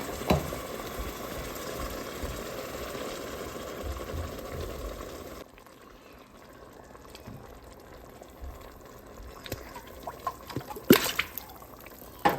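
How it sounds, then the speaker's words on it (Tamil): Two cups of water pour and splash steadily into a cooking pot of mutton biryani, a continuous liquid rush that drops to quieter trickling and bubbling with a few small clinks. "இப்போ ரெண்டு கப் தண்ணி விட்டு போடுறேன்"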